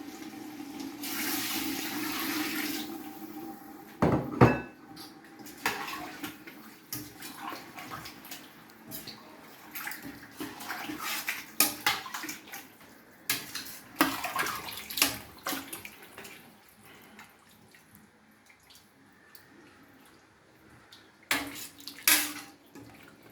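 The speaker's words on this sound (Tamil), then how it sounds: "இப்போ நாங்கள் இதுக்கு என்ன தேவையான அளவுக்கு தண்ணி விட போகிறோம் வந்து." Water pours and splashes into a pot holding rice, a steady running stream for the first few seconds, then scattered clinks, knocks and sloshing of the pot and utensils.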